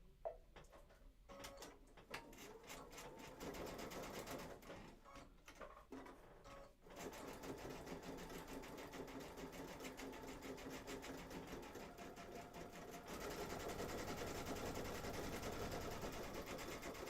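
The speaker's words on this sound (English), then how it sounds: "I'm going to sew these real quick." A sewing machine stitches fabric pieces for a garden table runner, with quick rattling bursts at first, then a long continuous mechanical whir that grows slightly louder near the end.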